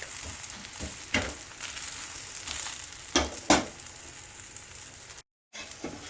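A moong dal chilla cooks on a greased tawa, giving a soft, continuous sizzle with a few sharper crackles and pops, faint and steady throughout.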